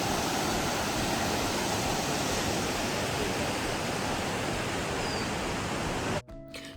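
Ernakulam river rushing beneath a bridge in Kerala, a steady, loud broadband wash of flowing water lasting about six seconds before cutting off abruptly.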